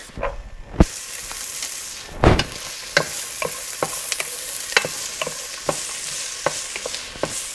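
Onion and celery frying in olive oil in a pot, a steady soft sizzle with repeated sharp clicks and scrapes of stirring, plus a louder clatter near the middle, close and alone without talk.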